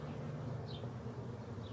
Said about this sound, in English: The bees are all over the small hive beetles.